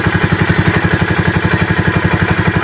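A new tricycle motorcycle's engine idles steadily up close, its rapid even putter loud and unbroken, with no voices.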